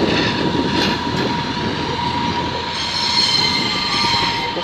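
Class 142 Pacer diesel unit running through Doncaster station, a steady loud rumble of wheels and engine with rail squeal and hiss lasting throughout, no talk.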